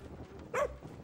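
A dog in the Overcooked 2 video game gives a single short bark or yip, brief and moderately loud over quiet game background sound.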